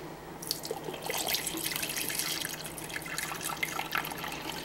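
Water is poured in a steady, splashing stream for several seconds, close by and fairly quiet, with no talking.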